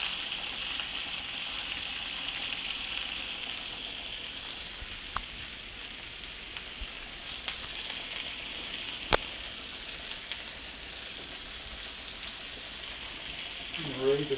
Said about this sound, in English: And let my sausage get brown just a little bit.